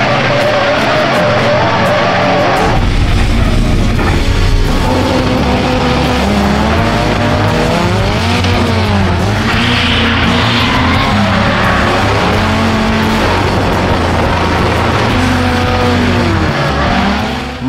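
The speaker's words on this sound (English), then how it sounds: "before he let loose for some victory skids" A slammed Nissan 180SX drift car rips loud victory skids at a drift competition, its engine revving hard and tires squealing continuously for the whole stretch, close and dominating with no voices.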